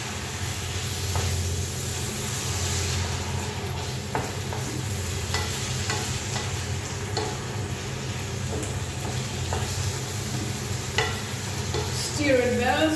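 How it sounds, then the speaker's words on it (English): Tofu crumble sizzles steadily in a frying pan while a utensil stirs and scrapes through it at intervals, with the continuous hiss of hot oil throughout. "Stir it well so that all chunks are frying"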